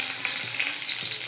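Mustard seeds and green chillies sizzling in hot oil for an egg gravy, a bright crackling hiss with small pops throughout, close and steady.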